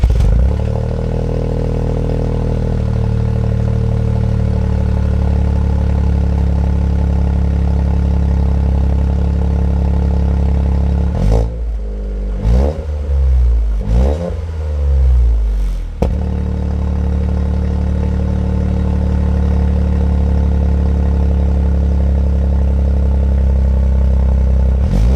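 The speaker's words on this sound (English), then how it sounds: "let's roll an exhaust clip." A 2023 Toyota GR Corolla with a triple exhaust idles with a loud, steady drone. In the middle, a burst of sharp revs climbs and falls several times, then the engine settles back to a constant idle.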